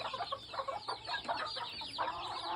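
Gamefowl hens, mongrel and Asil birds kept free range, cluck in a steady busy flock chatter, several birds close by calling over one another without pause.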